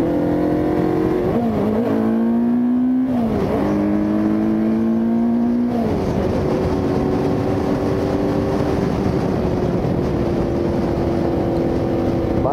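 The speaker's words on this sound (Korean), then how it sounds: "이 녀석은 4기통이라서 엔진음이 전혀 아쉽지가 않죠" A Yamaha quarter-liter four-cylinder motorcycle engine revs up and down several times with a smooth multi-cylinder whine, then settles into a steady high drone, close and loud.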